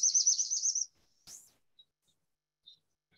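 A forest bird sings a rapid, high trilling phrase up close, followed by a sharp single call and a few faint chirps in otherwise quiet surroundings.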